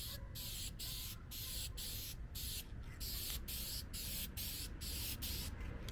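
Aerosol spray paint hisses in short repeated bursts while coating aftermarket hood vents on a drift car, each blast separated by brief pauses, close and steady over a low background rumble.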